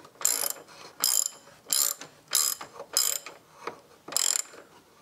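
A ratchet tightens differential bolts on the rear axle of a BMW Z3, close and crisp, with about six rhythmic bursts of rapid clicking separated by short pauses.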